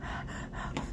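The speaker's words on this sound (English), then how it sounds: "I'm heavy breathing" Heavy breathing through a congested nose, a close, steady stream of airy inhales and exhales with a sharper gasp near the end, with no talking.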